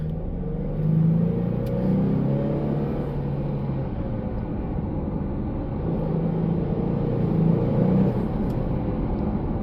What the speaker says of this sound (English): It'll be the best case scenario to hear in-cab turbo sounds